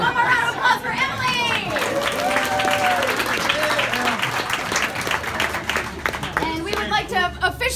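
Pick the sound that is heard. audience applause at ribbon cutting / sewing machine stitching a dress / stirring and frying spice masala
audience applause at ribbon cutting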